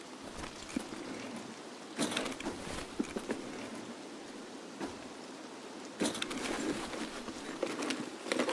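Rain in the video game Escape From Tarkov, a dense, steady patter washing over everything, broken by a few sharper bursts and taps, with no voices.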